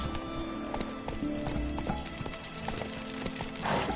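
Roach the horse gallops in The Witcher, with rhythmic clip-clop hoofbeats running steadily and close under a continuous game soundscape, a brief brighter burst near the end.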